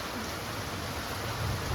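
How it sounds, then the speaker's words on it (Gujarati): Heavy rain falls steadily on open farm fields, a soft continuous hiss at moderate distance that swells slightly toward the end. "તો હજી 10-15 મિનિટ જેવો વરસાદ થયો છે ચાલુ થયો છે."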